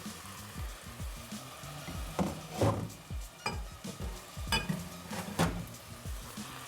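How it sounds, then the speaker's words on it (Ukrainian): Meat goes into a pot for Hutsul bograch and sizzles, with a steady frying hiss broken by several close clacks and scrapes of a utensil against the pot, fairly quiet and without speech. "А тепер настав час м'яса. Додаємо сюди м'ясо."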